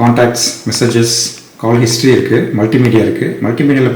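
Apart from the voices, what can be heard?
No everyday noises stand out.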